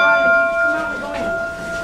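A bell on a train is rung by children, its clear metallic tone ringing and sustaining over a couple of seconds with faint background noise.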